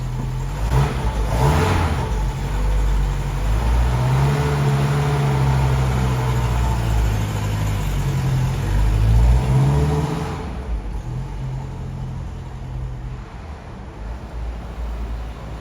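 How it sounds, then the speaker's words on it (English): A Mercedes 190SL classic car engine runs steadily at close range, rising and falling in pitch as it drives slowly around a car park, then settles into a quieter, lower hum. "So the car gets out for its maiden voyage, albeit around the car park."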